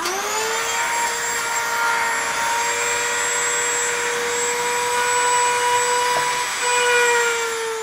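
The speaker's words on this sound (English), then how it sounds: "So I'll drill a hole in the neck." A power drill whines steadily at a high, even pitch for several seconds while drilling a hole in a painted miniature's neck, close and continuous, with no talking.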